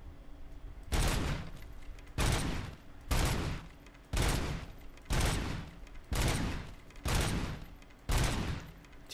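Video game gunfire in Robocop Rogue City, heard as about eight loud, evenly spaced bursts of heavy shooting, each lasting roughly half a second, with no voices.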